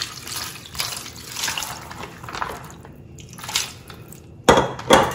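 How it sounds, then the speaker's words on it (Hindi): Cashews being rinsed under running water after boiling, a steady tap stream splashing over the nuts in a strainer with bursts of clatter, close and alone with no talk. "इसको अच्छे से पानी डालकर धो देना है"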